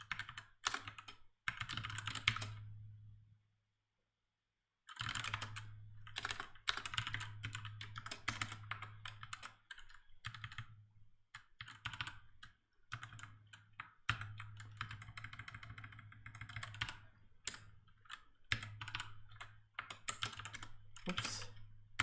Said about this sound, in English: I will type so many files.